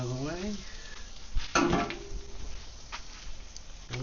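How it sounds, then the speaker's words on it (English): Beef and chicken cooking side by side on a crowded ranch grill give off a sizzle with some pan and utensil clatter, a burst of louder hiss in the middle, with brief talk nearby. "And listen to the sizzle."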